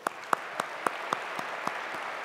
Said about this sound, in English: Let's have another round of applause for Governor Nathan Deal.